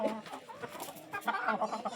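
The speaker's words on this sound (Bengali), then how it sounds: "এই মুরগিগুলো বড় বড় বলতে অনেকটাই বড়" Large Polish cap chickens cluck in short, uneven bursts at close range, several birds overlapping with no talk over them.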